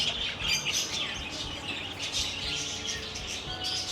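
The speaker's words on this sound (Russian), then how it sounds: "О, глянь, попугаи." Parrots in a garden centre on the Canary Islands chirp and squawk continuously at moderate distance, with short calls layered over a steady background hum and no voices.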